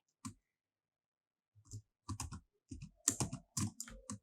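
Short bursts of typing on a computer keyboard, sparse key clicks at first and then denser clusters of keystrokes, close and fairly quiet with silence between.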